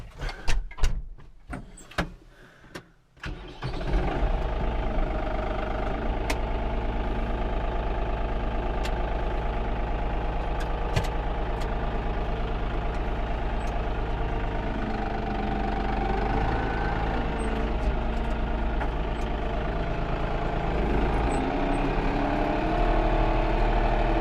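A farm tractor engine, likely a small Kubota, starts after some handling clatter and then runs at a steady, close, even drone throughout while being moved on a farm during silage feeding.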